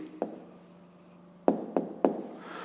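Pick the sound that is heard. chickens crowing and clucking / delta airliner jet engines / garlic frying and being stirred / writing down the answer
writing down the answer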